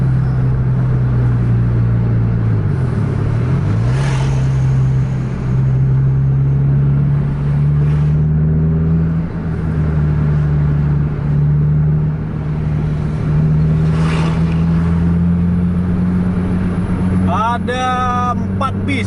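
Scania buses run flat out on a road from Takengon, a loud steady engine drone with deep rumble that holds throughout and lifts in pitch toward the end.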